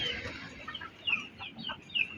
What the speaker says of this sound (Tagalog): Ibang klaseng manok. Lalaking manok.